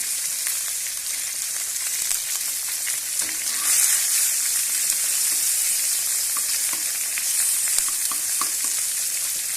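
Green chillies sizzle in a pan of oil left over from frying fish, a loud, close, continuous hiss with faint crackles and occasional stirring, no voices.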